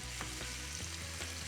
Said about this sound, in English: We all get ready to stir fry now.